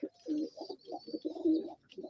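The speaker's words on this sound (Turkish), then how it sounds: "Arkadaşlar bu oyun kuşu." A male tumbler pigeon, a domestic play breed, coos in a series of soft, low, throaty phrases with short gaps between them. The cooing is close and clear, with no talking over it.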